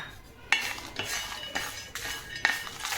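Dried red chillies and groundnuts are stirred in a pan, with a spoon scraping and clinking against the metal in several irregular strokes, quiet and close.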